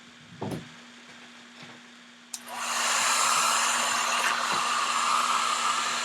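A hair dryer switches on partway through and blows steadily and loudly to drive watercolour paint dry on a canvas, after a few faint knocks and taps in a quiet room.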